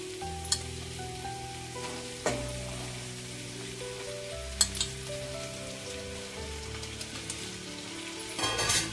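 Shredded cabbage sizzles steadily in a hot pan for kobi javla bhaji, a soft continuous frying hiss with a few sharp clinks of a utensil. Background music plays throughout.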